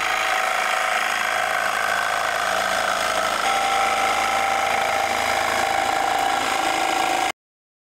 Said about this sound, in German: du hast die Säge so in der Hand und so sägst du dann von unten